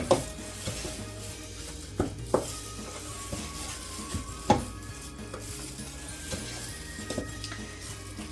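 Dry cake ingredients with cinnamon and nutmeg being mixed for a non-alcoholic Jamaican Christmas cake, heard as steady scraping and stirring in a bowl with occasional sharp utensil knocks against the side, close and moderately quiet, with no talking.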